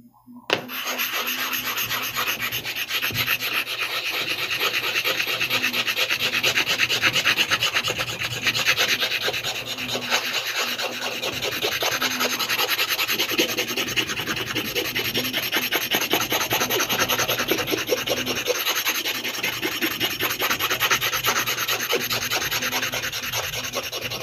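Japanese sharpening whetstones are being flattened by rubbing, giving a steady, close, gritty rasping scrape that repeats in quick back-and-forth strokes for the whole stretch with no talk.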